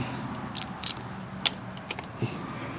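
A ratchet turns a deep socket on a spark plug of a second-generation Honda CR-V, giving a handful of sharp, close metallic clicks at uneven intervals over a quiet background.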